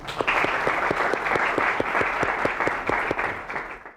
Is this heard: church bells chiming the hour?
no